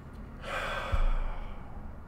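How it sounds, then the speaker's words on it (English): A group of worshippers takes a deep breath together during a church service: one soft, airy inhale swelling and fading over about two seconds, with no talking. "I invite us all to take a deep breath,"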